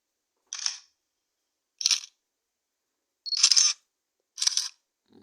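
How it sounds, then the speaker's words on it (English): Four separate camera shutter clicks from a sound effect, each a crisp, short snap with silence between them, the third slightly longer and fuller. "Camera shutter sound."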